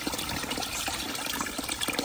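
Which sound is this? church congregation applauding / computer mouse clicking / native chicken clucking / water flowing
water flowing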